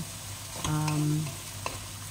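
Ginisang ampalaya with bitter gourd and chicken breast sizzles in a pan as it is stirred, with a utensil scraping and clinking against the metal over the constant frying hiss.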